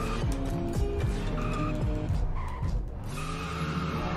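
Truck tires skid and squeal while being warmed up in a Roblox Greenville roleplay game, with repeated loud squeals over a steady engine drone.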